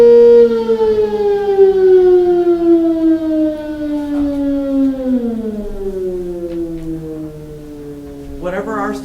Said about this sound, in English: We'll wait for the siren.